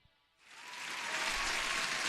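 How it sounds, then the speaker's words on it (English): Applause sound effect played on a trading livestream: a quiet start, then dense crowd clapping swells in within half a second and holds steady and fairly loud. "Huge applause for Eugene"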